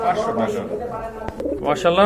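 Pigeons at a market stall, including a big-sized Lahori pair, coo in soft, low burbles beneath loud, close conversation, with a sharp click midway.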